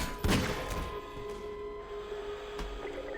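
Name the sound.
Magnum revolver gunshots from the video game Half-Life 2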